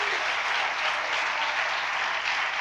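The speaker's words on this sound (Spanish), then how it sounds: "Démosle un aplauso, Señor" Church congregation applauding together, a dense, even wash of clapping that holds steady throughout without voices.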